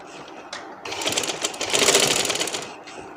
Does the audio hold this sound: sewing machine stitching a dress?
yes